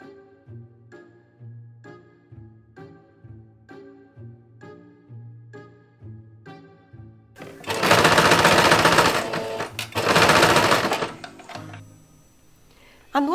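A sewing machine stitches bias tape along the edge of a cosplay skirt, sounding as two loud, dense bursts of rapid mechanical whirring that follow a stretch of softer tonal background sound.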